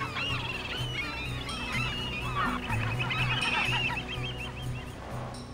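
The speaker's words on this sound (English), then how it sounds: "See the geese." Cartoon geese honk in a dense, steady chorus of overlapping calls over a low sustained music bed, moderately loud and continuous throughout.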